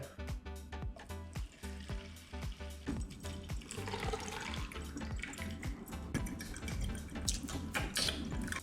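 Melted beef tallow, salty and near 170–180 degrees, poured through a strainer in a kitchen, giving a steady close liquid trickle and splashing with repeated drips and light clatter throughout.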